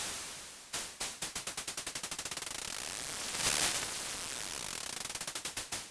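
Broadband white noise from the auGEN X noise generator plugin, chopped into rapid, evenly spaced bursts that speed up, swell into a louder continuous hiss near the middle, then break back into slowing pulses.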